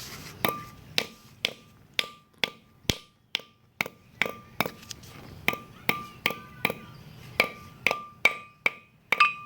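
Steady series of sharp, ringing hammer taps driving a seal into place during a 1966 Ford Bronco front disc brake install, roughly two per second, each a bright metallic strike with a brief tone; no talking.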